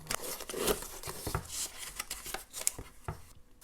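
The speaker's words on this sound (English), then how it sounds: "Let me go ahead and get some scissors and we'll open it up." Quiet, close snips and rustles as scissors cut open a sturdy cardboard bead subscription box, irregular sharp cutting clicks and scraping over several seconds with no talk.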